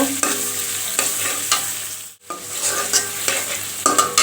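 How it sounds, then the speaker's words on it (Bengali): Chopped onion and a little minced garlic fry lightly in a pan with steady close sizzling, broken by a few stirring scrapes and one brief pause midway. "দিয়ে দেব পেঁয়াজ কুচি আর সামান্য এক কোয়া পরিমাণে রসুন কুচি দিয়ে হালকা করে একটু ভেজে নেব"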